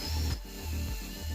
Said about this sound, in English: The holes that I'm drilling right now are where the legs are going to attach to the boards